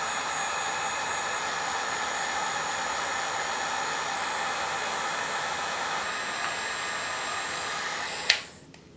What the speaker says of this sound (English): I'll do that with the heat gun